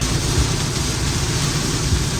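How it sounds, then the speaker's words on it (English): Heavy rain pouring down during a Florida rainstorm, a steady dense wash of noise with a low rumble underneath, continuous and close for the whole stretch with no voices. "Let's wait this rainstorm out"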